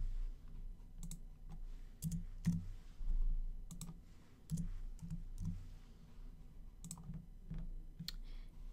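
Clicks and taps on a computer keyboard while figures are entered into a dock manager program, scattered sharp keystrokes with irregular pauses, close and fairly quiet over a low background hum.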